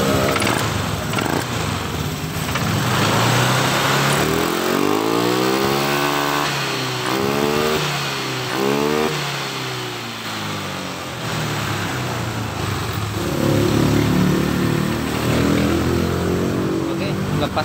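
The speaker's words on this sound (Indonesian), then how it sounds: "Motornya sudah bisa langsam kembali ya." Honda Vario 125 scooter engine running close by, holding a steady idle with the throttle rising and falling in a few revs, loud and continuous, while someone talks over it.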